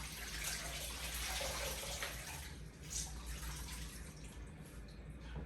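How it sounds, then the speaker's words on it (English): Water runs and splashes steadily, with trickling and dripping close by, as liquid is wrung from a towel into a basin. "Make sure you wring it out."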